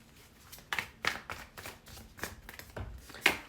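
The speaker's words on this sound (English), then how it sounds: "As I was shuffling, I saw the Emperor, which is your card, twice." Tarot cards are shuffled by hand in a series of soft papery riffles and taps, about eight short bursts at an uneven pace, close and quiet with no talking.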